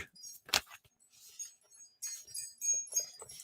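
Large, oversized tarot cards being shuffled, giving soft irregular riffling and slapping bursts with brief quiet gaps, one sharper snap near the start, close and fairly faint.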